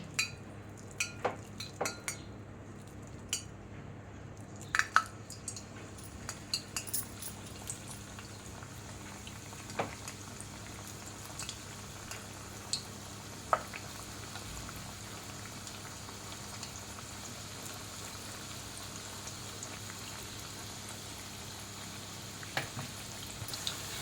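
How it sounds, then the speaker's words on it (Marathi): Onion bhaji fritters sizzle and bubble steadily in hot oil in a kadhai, a continuous close frying hiss dotted with small pops and occasional light utensil clinks, with no talking. "मी कढई तेल गरम झालेलं आहे आता आपण भजी बनवायला सुरुवात करूया"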